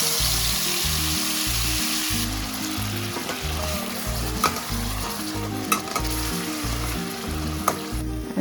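Blended pepper with onions fries in oil in a pot, a loud, steady close sizzle with stirring scrapes throughout and no talking.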